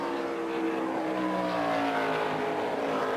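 NASCAR stock car engines roar at Dover as a big pack runs together, a steady, sustained drone of several engines with shifting pitched whines. Moderately loud and continuous, no one talks.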